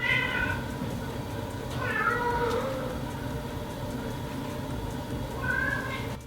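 A cat meows repeatedly, loud and close, with drawn-out, wavering cries separated by short pauses over a steady low background hum.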